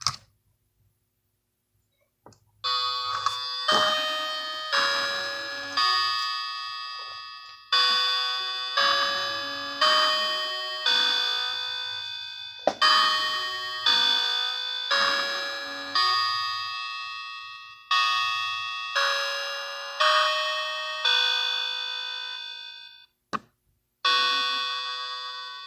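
A newly assembled Westminster chime clock rings out its melody as a series of loud, ringing struck notes that decay slowly, with short pauses between phrases and a final quick strike near the end.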